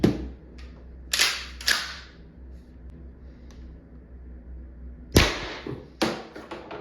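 An Umarex HDX less-lethal CO2 pistol, 88g cartridge, fires sharp cracking shots, several spaced bursts close up with quiet gaps between.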